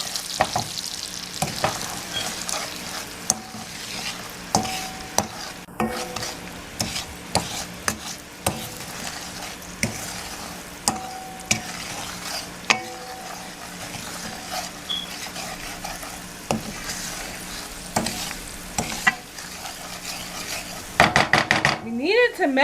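A butter, sugar and garlic sauce melts and gets stirred in a pan, a low steady sizzle broken by repeated clinks and scrapes of a utensil against the metal, with occasional voices.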